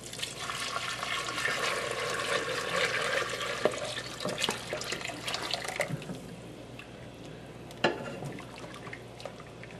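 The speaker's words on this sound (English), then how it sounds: "And then we're gonna add in the beef stock." Beef stock is poured into a soup pot for a Hong Kong beef and cabbage soup, a close, continuous liquid gush that tapers off into scattered splashes and a few sharp knocks of the container.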